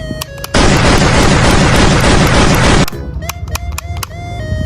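A toy cowboy pistol lets out a long, loud electronic gunfire burst of roughly two seconds, cutting over steady beeping toy melody tones that continue before and after.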